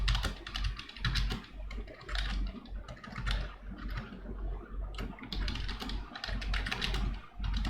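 Steady typing on a computer keyboard, a continuous run of quick, closely spaced key clicks at moderate level with brief pauses, no voices.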